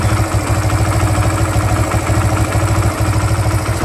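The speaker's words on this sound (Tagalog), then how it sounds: "Yan, ganyan lang yung tunog ng makina niya." Barako engine idling at a steady, loud, close rumble with an even, rapid low chug and no change in pace throughout.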